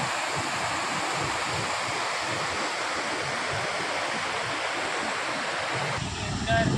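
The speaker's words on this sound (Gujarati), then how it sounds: "એટલું પાણી જોરથી આવે છે" Seawater rushes strongly at the shore in a dense, continuous roar that stays loud and close throughout, with some wind buffeting the microphone.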